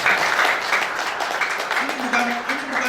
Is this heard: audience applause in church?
yes